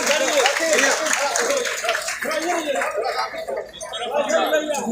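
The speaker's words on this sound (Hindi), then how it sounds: "एक बार जोरदार ताली गाजीपुर की तरफ से।" Crowd applause and cheering from a large gathering at a martyr's memorial day event in Ghazipur, steady and loud throughout with chatter mixed in.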